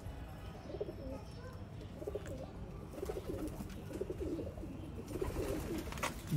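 Quail and pigeons of a Sialkoti breed call steadily, with soft repeated cooing and occasional chirps over a constant low background, with no voices.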